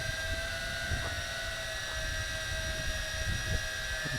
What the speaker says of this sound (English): I'm not actually flying it right now, just hovering up there.